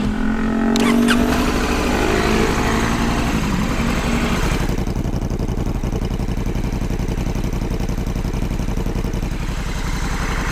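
A 2020 Honda Africa Twin 1100 motorcycle fires up and settles into a steady, loud idle with a rapid, even engine pulse close to the listener.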